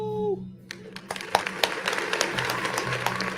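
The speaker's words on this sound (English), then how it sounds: "Round of applause." A small round of applause breaks out after a brief tone, a scattered run of claps with sharp individual hits that settles into steady clapping, fairly faint and without talk.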